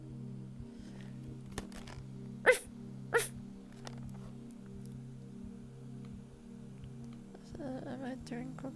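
Person imitating a dog: two short, loud vocal barks stand out over a steady low hum and faint background sounds in a quiet indoor setting, followed by a few softer voiced sounds.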